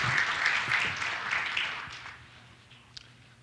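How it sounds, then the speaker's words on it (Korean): Audience applauding at a Dsion blockchain presale meetup, a short burst of moderately distant clapping that fades out within a few seconds. "큰 박수 부탁드리겠습니다."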